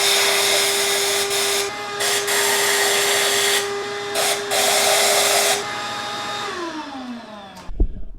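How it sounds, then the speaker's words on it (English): A power drill bores anchor holes into a garage floor for a car lift post, droning loudly and steadily with short dips between bursts, then spins down to a stop and ends with a sharp knock. "drill the 5 holes over there"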